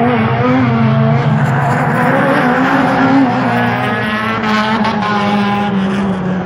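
Stock cars race at Waterford Raceway in a loud, continuous engine roar as a pack passes close by, a steady droning howl with no pause and no voices over it.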